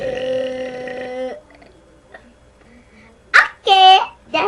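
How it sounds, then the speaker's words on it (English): Very loud burps ring out close up: a brief voiced sound and a quiet pause come first, then a short burp and a longer rolling one, with a final short burst. "You're going to hear the loudest fart ever. I mean the burp ever."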